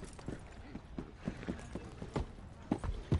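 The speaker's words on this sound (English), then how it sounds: "It's a horse." Horse hooves clip-clop in Red Dead Redemption 2, a steady run of close, fairly loud footfalls with a faint background bed.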